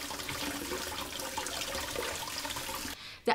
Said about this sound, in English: So leave for 5 minutes or a little bit longer, and rinse with water.